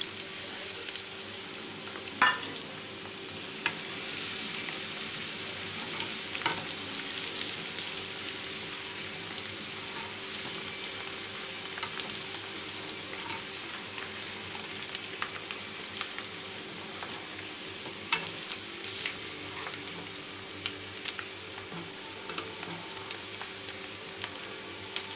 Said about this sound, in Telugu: వెల్లుల్లిపాయలు కూడా వేగుతున్నప్పుడు మనం కరివేపాకు వేసేయాలి.